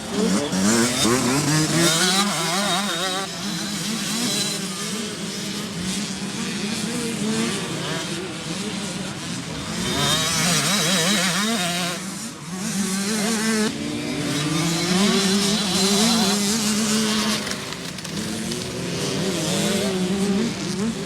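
Motocross bike engine with a freshly repaired power valve revving loud and near, pitch repeatedly climbing and falling through the throttle blips, with voices talking now and then over it.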